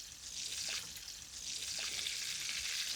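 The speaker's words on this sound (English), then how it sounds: "the pancetta is rendered. I have a little bit of fat. Let's throw in the cauliflowers" Cauliflower florets frying in rendered pancetta fat in a pan, a steady close hiss and crackle of sizzling oil throughout with no voices.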